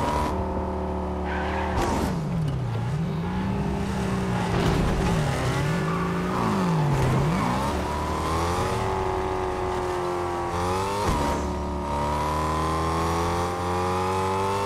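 A car engine in Fortnite drives continuously, revving up and down through shifting pitches with bursts of acceleration and tire noise. It sounds loud and close and carries on without pause, with no talking.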